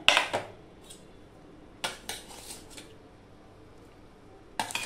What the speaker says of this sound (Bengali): মাছগুলো আমি দিয়ে দেবো এক এক করে